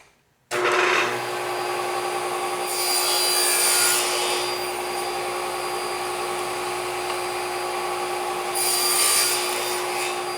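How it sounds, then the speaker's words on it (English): A table saw with a crosscut sled and fine-tooth crosscut blade cuts a wooden board into squares: a loud, steady motor whir starts abruptly and runs throughout, with the cutting rasp swelling in brief surges. "Let's cut up the whole board into squares."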